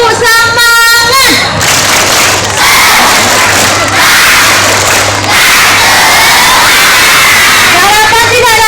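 Elementary schoolchildren at a morning assembly in Palembang shout a loud spirit cheer together, with rhythmic clapping and chanting in unison from a large crowd close by.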